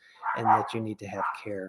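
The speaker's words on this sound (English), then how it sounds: "Sorry about the dogs in the background." Dogs bark repeatedly in the background, several sharp woofs with a yip, heard beneath someone talking close to the microphone during an interview conversation.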